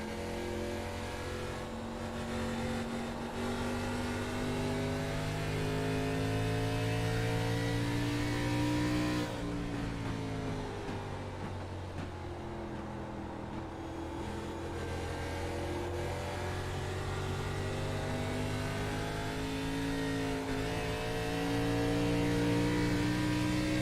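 A race car engine in the Cactus Burner 70 drones and revs continuously at close range, with a brief dip as the throttle lifts around the middle before the steady high-pitched roar resumes.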